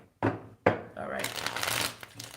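Tarot cards being shuffled by hand, several quick riffling bursts followed by a longer papery flutter, close and fairly quiet.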